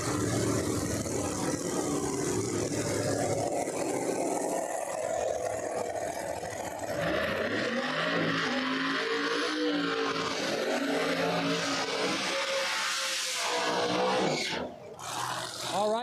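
Drag race cars roar through burnouts at Empire Dragway during a No Prep Kings event, a loud sustained engine rumble and tire scream filling the whole stretch, with a brief dip near the end.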